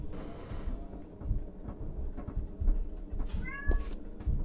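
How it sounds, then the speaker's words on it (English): A cat meows twice in quick succession near the end, rising then falling, over a steady rumbling background noise. "Not my cat."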